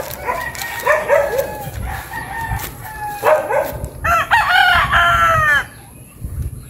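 Young gamecock stags, four to five months old, crow several times at a gamefowl farm lot, near and loud, with clucking in between and a dog barking faintly.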